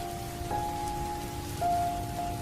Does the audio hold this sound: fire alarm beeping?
no